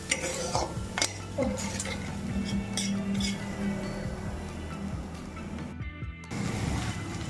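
Spices and salt sautéing for a vegetarian dish as a utensil scrapes and clinks against the pan in irregular knocks, over a low sizzle and a brief moment of quiet.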